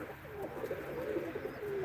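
Pigeons coo softly at a game-bird auction in Ankara, a few low, rolling calls rising and falling over a faint room background.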